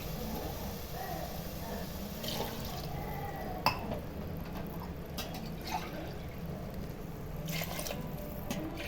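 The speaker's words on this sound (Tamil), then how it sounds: "இப்போ தண்ணி போட்டுக்கலாம்." Water poured into a pan of sautéed masala for prawn biryani, a steady splashing flow with a few faint drips and clinks over a broad background wash, moderately loud and continuous.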